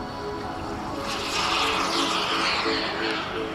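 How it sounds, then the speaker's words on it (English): A model jet aircraft engine whooshes past at an airshow, swelling louder then easing, a broad rushing roar with a steady whine beneath. "This is the jet engine."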